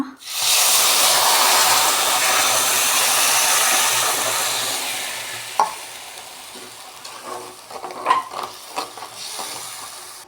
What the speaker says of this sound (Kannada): ಸೊ ಸ್ವಲ್ಪ ಕುದಿ ಬರ್ತಾಯಿದೆ